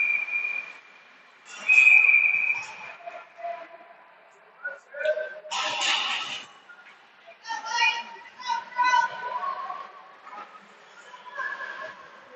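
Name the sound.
referee's whistle at a youth ringette game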